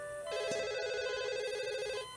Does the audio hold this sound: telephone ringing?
yes